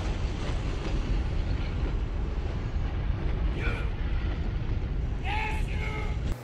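A train rolls past railway tracks in a scene from a film, a steady loud rumbling roar filling the whole stretch with brief high squeal-like tones near the end.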